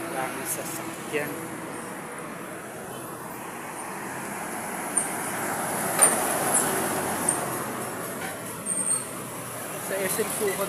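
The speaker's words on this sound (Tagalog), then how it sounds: "Daming sasakyan." Heavy street traffic with many vehicles passing, a steady roadway rumble punctuated by occasional horn-like tones and brief louder swells, with voices talking over it.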